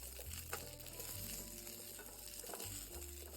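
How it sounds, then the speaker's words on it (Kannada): Cut drumstick pieces fry in a little oil for sambar, a faint steady sizzle with light stirring, quiet and continuous. "ನುಗ್ಗೆಕಾಯಿ ಕಟ್ ಮಾಡಿ ಇಟ್ಕೊಂಡಿದ್ದೀನಿ, ಅದನ್ನು ಹಾಕ್ತಾ ಇದ್ದೀನಿ. ಸ್ವಲ್ಪ ಎಣ್ಣೆಲಿ"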